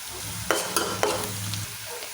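Chopped onion and green chillies frying in hot oil, a steady sizzle broken by three sharp stirring scrapes in quick succession, close and moderately loud with no talk.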